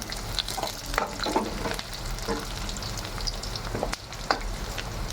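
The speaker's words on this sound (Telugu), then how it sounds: "కరివేపాకు ఫ్రై అయిన తర్వాత" Curry leaves frying in hot oil for a tempering, a continuous crackling sizzle with sharp pops and occasional stirring scrapes, close and fairly loud, no one speaking.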